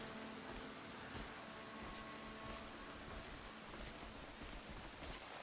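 Steady, soft rain falling in a video game, an even hiss with faint patter throughout and no voices.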